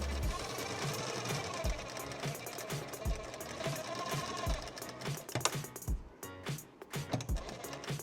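A sewing machine stitches a princess cut blouse in quick, rhythmic bursts of needle chatter that stop and start, with small metallic clicks between runs.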